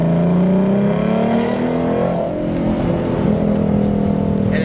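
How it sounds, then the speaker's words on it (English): A Ford Mustang with the 3.7L engine and 3.73 gears pulls at wide open throttle, its engine note rising loud and close, briefly dropping at a shift, then climbing again. "I've been doing wide open throttle pulls with the car."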